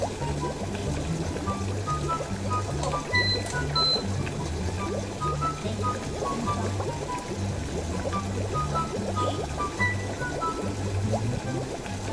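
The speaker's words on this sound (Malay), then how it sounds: "Baru kita masukkan sup ni" Soup is poured into a hot pot while preparing asam laksa, giving a steady, continuous liquid pour over background music and a low hum for the whole stretch.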